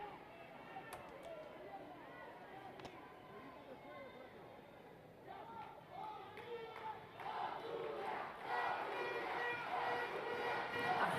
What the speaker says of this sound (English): A Honduras chants echoing throughout Estadio Chelato Uclés